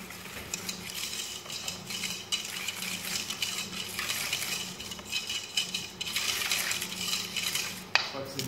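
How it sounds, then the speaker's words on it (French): Cold milk being stirred into flan custard in a medium pot over heat, a steady scraping and swishing of a utensil against the metal that runs continuously at moderate, close range. "Mélangez bien dans votre bassin moyen avec le feu."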